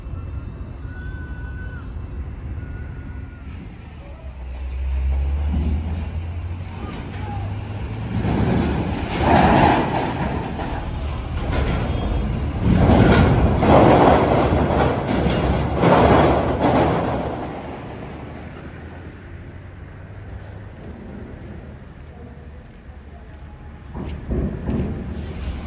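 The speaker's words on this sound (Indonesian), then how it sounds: "Sudah mulai proses loading dan ini dia bus kita juga masuk." A bus and other vehicles drive onto a ferry at Merak port, heavy engine rumble with clanking and rattling over the loading ramp that swells in the middle and then eases off.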